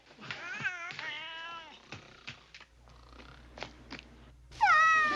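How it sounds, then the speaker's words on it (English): A cat meowing repeatedly at a military base, clear and fairly close, with drawn-out baby-like cries broken by short pauses and a loud final meow. "Why, it's a pussy cat."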